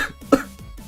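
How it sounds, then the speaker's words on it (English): A single sharp, harsh cough breaks out once, with breathy sounds around it. "he started coughing violently"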